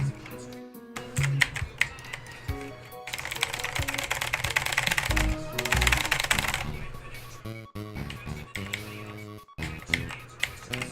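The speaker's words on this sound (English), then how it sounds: "you're gonna be hearing my keyboard a ton during this run" Computer keyboard clatters loudly and fast through an Undertale speedrun, with rapid bursts and dense flurries of keystrokes beside a steady electronic tone, no voice over it.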